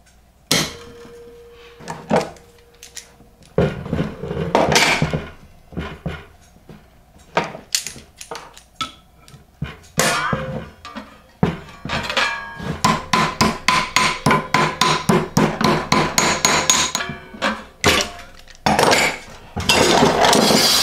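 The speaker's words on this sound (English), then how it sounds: "Try and hammer on the same side as the fold, so that'll be on the inside of your stove," Repeated hammer blows fold over the edges of a sheet metal plate for a homemade hot tent stove, ringing metallic strikes in scattered bursts and then a fast, steady run of close, loud hits with short pauses.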